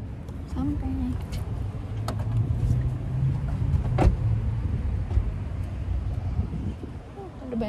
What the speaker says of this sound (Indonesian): Ada banyak mobil.